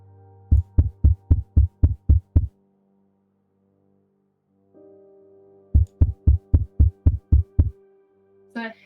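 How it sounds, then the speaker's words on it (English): A heartbeat as if heard through a chest during a tabletop RPG session: two clear runs of about eight steady, close, loud thumps with a pause between them and a low hum underneath. "Is that his heartbeat?"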